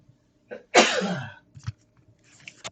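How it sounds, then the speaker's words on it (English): A single loud, close sneeze with a sharp breathy burst, preceded by a quick intake of breath and followed by a few small mouth sounds. "So I'm going to sneeze."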